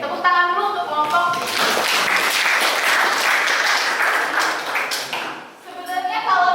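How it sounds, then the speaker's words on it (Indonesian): Classroom audience applauds a student group in a biology lesson, a steady burst of many hands clapping for several seconds, with voices talking over the start and end. "tepuk tangan dulu untuk kelompok"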